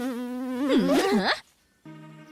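A cartoon fly from a Jungle Book animation buzzes loudly with a wavering, swooping drone that cuts off abruptly, followed by a short steady hum.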